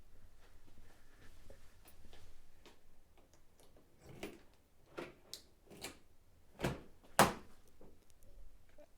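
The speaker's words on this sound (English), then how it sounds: "now we'll use the emergency key to unlock the driver's door" Soft metallic clicks and scrapes of an emergency key working the driver's door lock of a Lexus GX460, a few sharp clicks near the end, quiet and close.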